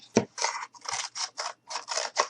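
Scissors cut through a cardboard shoe sole in a run of about seven close, crisp crunching snips at a steady rhythm. Short quiet gaps fall between the snips, and no voice is heard.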